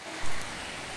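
Steady rain patters down as a continuous hiss, with a brief louder splash near the start and no voices.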